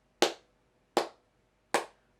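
Three sharp, evenly spaced claps, each about three-quarters of a second apart, from a group clapping in time with spoken words during a music session. They are close and crisp, with quick decays against near silence.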